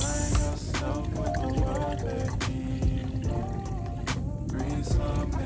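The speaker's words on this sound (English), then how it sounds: "This is my percolator, my water heater, and we're gonna pour water into it." Water is poured into an electric kettle used as a water heater, giving an uneven splashing and trickling stream with scattered drips and knocks, moderately close and fairly quiet.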